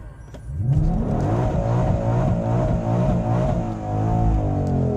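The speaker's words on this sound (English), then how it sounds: "Gotta warm the tires up." A Ford Shelby Mustang GT500 on race gas and Cup 2 tires does a burnout to warm the tires, its engine roaring loud and close with a sustained, wavering rev that stays high throughout, and no one speaks.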